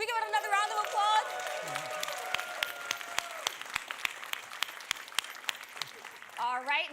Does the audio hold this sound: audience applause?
yes